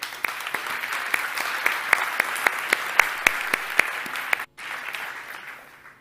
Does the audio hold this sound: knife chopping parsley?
no